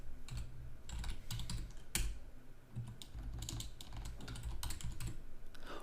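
Someone types a shell script on a computer keyboard, with close, rapid bursts of key clicks and short pauses between them, and no voice.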